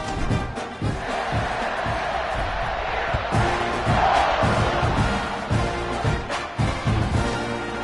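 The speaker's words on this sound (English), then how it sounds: "this crowd is buzzing after that last score" Stadium crowd noise in the video game College Football 26, a Texas A&M home game against Georgia, a loud continuous roar of many voices that swells and buzzes with occasional whoops and impacts throughout, right after a score.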